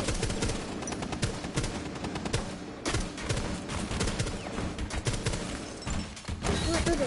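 Rapid gunfire from a tactical shooter video game, dense overlapping bursts of shots that run continuously and loudly, with a brief gap near the middle and no clear talk over it.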